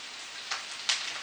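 Vegetables sautéing in a pan with onions for a cabbage and egg noodle haluski, a steady close hiss of frying with two brief louder sizzle bursts.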